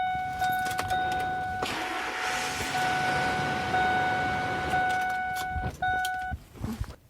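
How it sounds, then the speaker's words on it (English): A 2001 Ford F150 pickup with its transmission oil cooler hoses disconnected starts up, runs for a few seconds, then shuts off, with steady electronic chime tones sounding over the engine noise, close by. "I'm going to start the vehicle for about 1 to 2 seconds and then turn it off"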